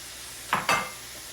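Peas dropped into a hot pan give two quick bursts of sizzling and stirring, close and fairly quiet, with no voices.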